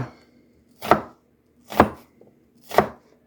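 A knife dices red onion on a wooden cutting board in three sharp, evenly spaced chops, each a crisp thunk close to the microphone, with quiet pauses between them.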